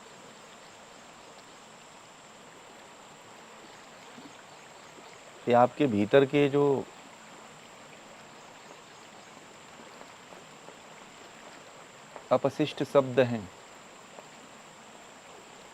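River water babbles along the Tungabhadra bank, a soft, steady rushing hiss that runs throughout, while someone speaks in two short bursts over it.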